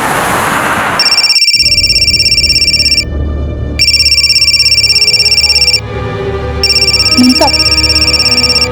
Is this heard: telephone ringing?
yes